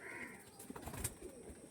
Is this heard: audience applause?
no